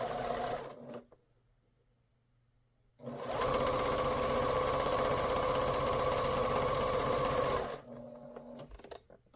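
A sewing machine runs steadily for about five seconds as it stitches a quilt seam, overlapping earlier stitches, with short bursts of machine noise before and after and a quiet pause between.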